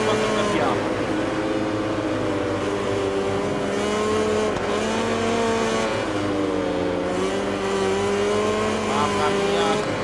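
MotoGP 20 race bike engine accelerating on track, a steady, loud high-pitched whine that rises and shifts through gears for the whole stretch, with other machines around and someone talking over it.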